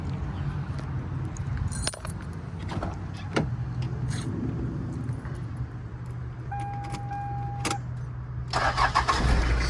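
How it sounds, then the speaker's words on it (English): A 1994 Toyota Hilux Surf with keys jangling in the ignition, then the engine cranks and catches, settling into a steady low idle, followed by faint clicks and a brief whine before a louder rev near the end. "Let's go ahead and start her up."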